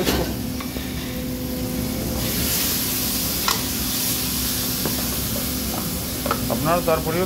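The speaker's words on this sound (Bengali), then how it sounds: "আমি টমেটো পিউরিটা অ্যাড করে নিচ্ছি" Tomato puree goes into a hot pan for Amritsari chole, giving a steady sizzle with scraping stirs and a few sharp clinks near the end, at close range.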